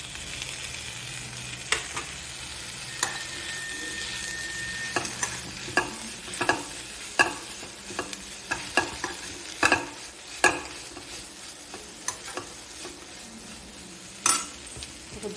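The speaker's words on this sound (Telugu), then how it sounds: "టమాటా ముక్కలు వేసేస్తున్నాను." Tomato pieces fry in a pan for ponnaganti koora, a steady sizzle broken by repeated sharp scrapes and clinks of a spoon stirring against the metal, close and fairly loud.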